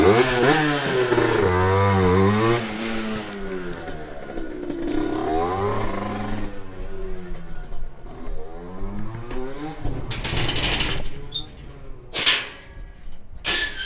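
Small moped (mobylette) engine revving and buzzing as it rides off and pulls away, loud at first and then fading with a changing pitch, with voices talking over it.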